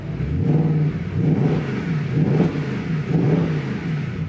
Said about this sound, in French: On met en mode Sport Plus, 2-3 petits coups de gaz.